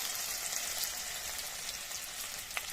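Asafoetida, a dried red chilli and cumin seeds sizzle steadily in hot oil, a dense, close, even crackle with a few brighter pops, with no talking.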